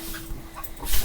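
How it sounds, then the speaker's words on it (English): Dogs in a room, heard close and fairly loud as a dog panting and whimpering, with short yips and a rising bark-like burst near the end over a steady low hum. "Mind the barking dogs."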